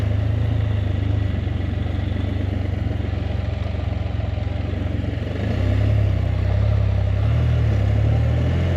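A Can-Am Spyder three-wheeled motorcycle runs with a steady low engine drone that rises slightly in the second half as it pulls away. The engine sounds close, loud and continuous, with no one talking.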